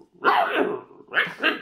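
A person mimics an angry little dog, giving two short, loud, close vocal barks with a brief pause between them, and no other sound around them.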